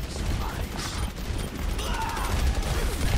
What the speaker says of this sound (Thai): ผมยิงครับยิงไปเรื่อยครับผม